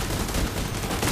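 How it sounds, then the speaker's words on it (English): A brief, dense stretch of automatic fire from a turret in The Division 2, loud and continuous with no clear gaps. "Turret, shoot these motherfuckers."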